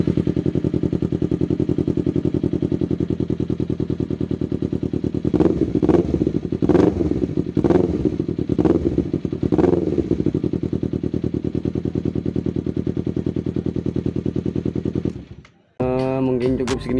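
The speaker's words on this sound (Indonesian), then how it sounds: "untuk bunyi dari knalpot villannya seperti ini" Kawasaki All New Ninja 250 Fi with an aftermarket exhaust runs steadily at idle and is blipped through several sharp revs. The loud, close exhaust note stops near the end, when a voice can be heard.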